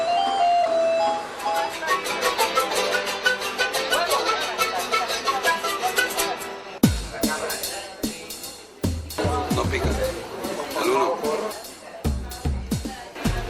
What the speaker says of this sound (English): don't look now, but it's another mariachi band. Music is everywhere in Mexico City,